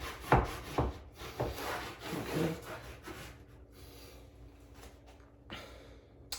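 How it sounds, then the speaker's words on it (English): Stonewashed linen wallpaper being trimmed with a blade against a smoother where a pipe meets the wall in a powder bath, giving a series of close scraping and rubbing strokes, stronger at the start, then quieter rasping with a few sharp taps. "I'm putting my smoother up against the wall where the pipe and wall meet, and I'm simply trimming it."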